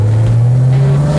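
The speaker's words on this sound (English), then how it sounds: "it's a Porsche motorsport engine that raced in the Super Cup during the 90s. So it's a lumpy, burbling engine" A 1990s Porsche motorsport engine from the Super Cup, fitted to a Theon Design Porsche, burbles at a low, lumpy idle or cruise, close and loud and steady throughout.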